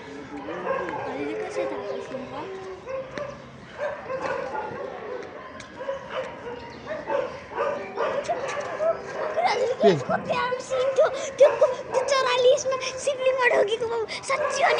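Several dogs gathered near a temple outside Mrigasthali bark, yip and whimper in an excited jumble, close by and continuous, with people talking over and among them.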